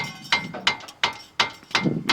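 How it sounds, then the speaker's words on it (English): A hammer strikes seized front brake pads on a Honda CR-V five times at a steady pace. Each blow is a sharp metallic knock, close and loud, with short quiet gaps between. "We have to use the hammer."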